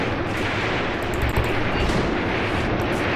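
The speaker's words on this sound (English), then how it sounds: "Wow, a lot of incoming artillery" Incoming artillery in Graviteam Tactics rumbles as a heavy, continuous barrage of booms and gunfire, loud and dense throughout with overlapping blasts and no pauses.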